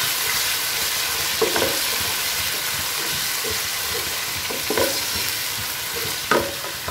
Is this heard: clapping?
no